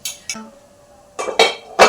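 Kitchen pots, pans and lids being handled for cooking, giving a few sharp metallic clinks and clanks in separate bursts, close by with quiet gaps between them and no talking.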